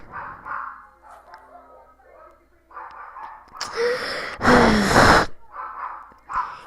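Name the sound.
dog barking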